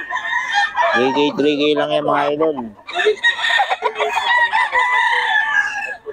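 A rooster crows loudly for a couple of seconds amid a busy mix of voices at a market in Bocaue, with people talking over and around it.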